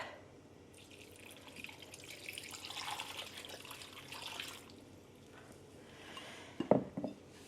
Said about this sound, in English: Pour that right over the beef.